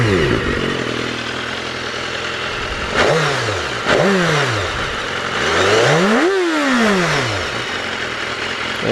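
A stock-exhaust 2014 BMW S1000RR inline-four motorcycle revs up close over a steady idle, with three sharp throttle blips followed by a longer, higher rev that rises and falls away, alone with no talk.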